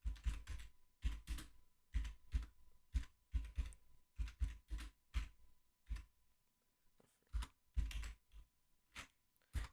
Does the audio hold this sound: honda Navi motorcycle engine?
no